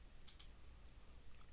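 Mouse clicks made while building a project in Visual Studio 2022 come as two quick, faint, close taps near the start, with quiet room noise around them.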